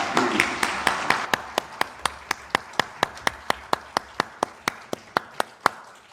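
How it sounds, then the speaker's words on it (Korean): A church congregation claps together during a Sunday worship service, with sharp, evenly spaced hand claps in a steady rhythm for about six seconds, clear and fairly close. "하나님께 영광의 박수 올려드리겠습니다."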